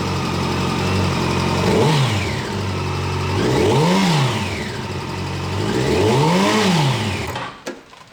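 A Yamaha FZ1 motorcycle engine runs close and loud after a kinked fuel line is fixed, held at a steady idle with three smooth throttle blips rising and falling, then cut off near the end.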